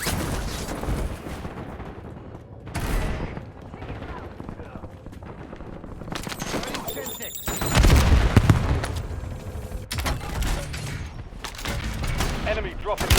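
Automatic gunfire and explosions crash through a Call of Duty Warzone quads match, with dense bursts and heavy booms, loud and close, while in-game voice callouts play over the shooting.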